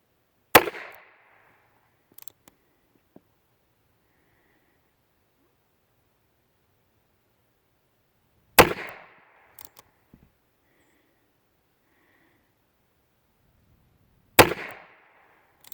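Three sharp, loud shots from an H&R 999 Sportsman revolver, spaced several seconds apart in quiet surroundings, each followed by a brief echo and small clicks or handling noises.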